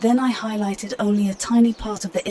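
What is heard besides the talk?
No distinct noise like a dog, phone or traffic.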